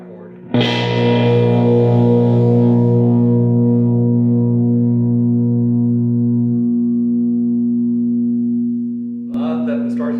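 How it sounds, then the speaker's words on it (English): A power chord rings through an overdriven First Act M2A-15 guitar amp, its speaker and cabinet rattling; one loud struck chord sustains for about eight seconds and fades before a short new attack. "A lot of that distortion you heard is actually the amp itself rattling and the speaker rattling"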